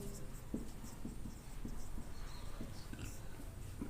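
Chalk writing notes on a classroom board during a physics lesson on reflection of light, short rhythmic strokes roughly every half second, moderately close over room noise.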